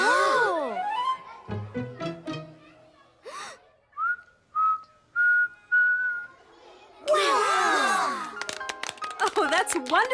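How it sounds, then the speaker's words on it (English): A young cartoon girl whistles in class, a series of short rising and sliding tones with gaps between them, close and clear, alongside exclaiming voices at the start and end. "You learned to whistle."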